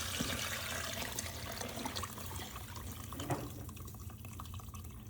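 Liquid pours steadily into a birria bowl, a continuous close splashing and trickling stream with no voices.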